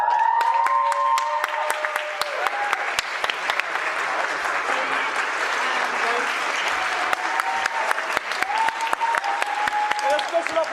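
A parents' evening audience applauds the actors of a Shakespeare school play, a steady, fairly loud round of clapping lasting throughout, with a voice speaking over it at times.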